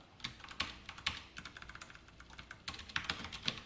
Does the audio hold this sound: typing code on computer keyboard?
yes